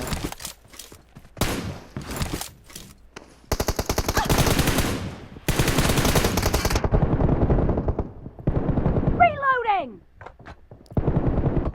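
Bursts of automatic gunfire in a PUBG-style battle royale game come in rapid rattling volleys separated by short pauses, loud and close, with a player talking over parts of the action.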